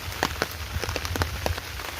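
Steady rain falling outdoors on a wet Tuesday morning, a dense even patter with scattered sharper drops hitting a surface, close and constant with no voices over it.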